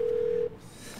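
A single steady telephone tone sounds in a video game for about half a second and then cuts off, leaving quiet room hiss.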